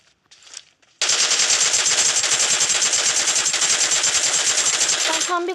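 Rapid automatic gunfire in a video game, a loud continuous burst of shots lasting several seconds after a brief quieter lead-in, with a voice faintly present around it.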